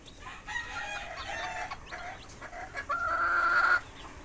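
Chickens and brood hens cluck steadily in an outdoor breeding range at a game farm, with one bird's louder drawn-out call rising near the end.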